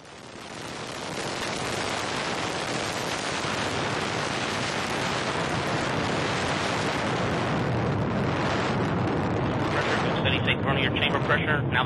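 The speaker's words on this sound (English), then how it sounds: "liftoff of the Delta II rocket with NOAA-N Prime" Delta II rocket lifting off with the NOAA-N Prime weather satellite: a sustained, loud broadband roar that builds within the first second and holds steady, rumbling and crackling with wind-buffeted texture throughout.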